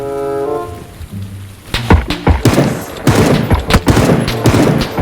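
Gunfire in a video game, loud rapid bursts of shots and sharp cracks crowding together after a quieter tonal opening, dense and close.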